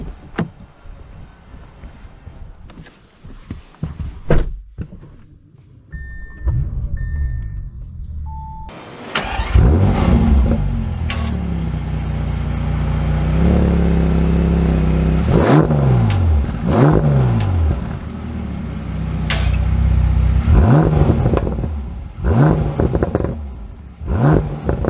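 A Bentley Continental GT W12 cranks and fires up, flaring loudly before settling to idle. It then pulls away with several rising revs and shifts, heard close by with the heavy twelve-cylinder rumble dominant.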